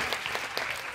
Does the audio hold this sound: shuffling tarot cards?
no